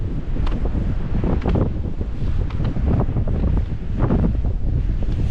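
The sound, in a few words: wind blowing into the microphone outdoors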